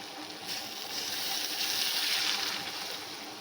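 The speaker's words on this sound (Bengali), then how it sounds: "এবারে এটাতে জলটা ঢেলে দেবো।" Water poured into a hot pan for Maggi noodles: a continuous close rushing pour mixed with hissing sizzle, steady throughout and swelling slightly in the middle.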